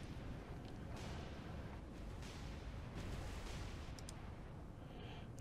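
Naval artillery in the War on the Sea game booms as a continuous, faint, rumbling barrage of rolling blasts, with no voices over it.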